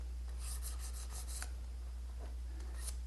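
Guitar saddle being shaped with 1000 grit abrasive, faint rapid rubbing strokes in a quick rhythmic series, then a few slower scrapes, close and quiet over a steady low hum.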